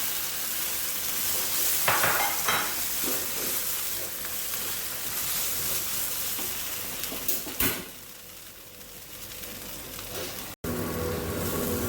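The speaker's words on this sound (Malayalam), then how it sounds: "ഇത് നന്നായി മിക്സ് ചെയ്ത് എണ്ണ തെളിയുന്നത് വരെ നമുക്ക് വഴറ്റണം" Poppy seed paste sautéing in oil while being stirred for a chicken biryani, a moderate sizzle with occasional scrapes and knocks of the spoon, fading quieter near the end and broken by a brief cut.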